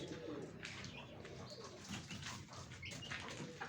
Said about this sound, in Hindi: कबूतर माशाल्लाह दाना खा रहे हैं।